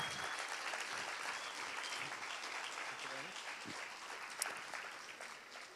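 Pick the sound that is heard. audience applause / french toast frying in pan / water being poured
audience applause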